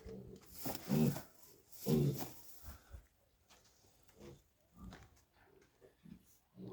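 Close oinks and grunts from a one-month-old piglet in several bursts, two loud squealy ones early, then softer scattered grunts and snuffles.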